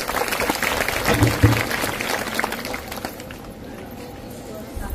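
An audience at a Shramjeevi Sanghatana union meeting in Maharashtra claps in a dense burst for about three seconds before the applause fades, with voices mixed in.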